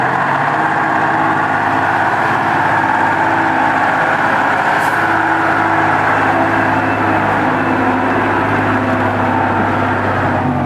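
A Ural 4320 military all-terrain truck's engine runs with a loud, steady, low rumbling drone that holds constant throughout without pauses or talk.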